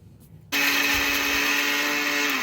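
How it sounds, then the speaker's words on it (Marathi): A kitchen mixer grinder switches on abruptly and whirs at a steady high pitch while grinding roasted spices for a South Indian pepper chicken fry, loud and close after a brief quiet start. "मसाला थंड झाले आहेत आता आपण मिक्सरमध्ये बारीक करून घेऊया"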